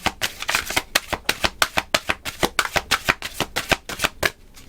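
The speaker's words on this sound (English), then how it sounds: "I feel like there's one more shuffle" Deck of tarot cards shuffled by hand up close, a quick, steady run of about twenty crisp riffling bursts with no voices.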